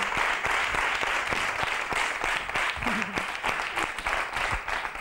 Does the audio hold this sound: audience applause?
yes